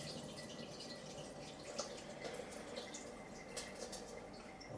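Rice being rinsed for risotto under running tap water, a steady close wash of trickling and dripping water with faint splashes, no voices.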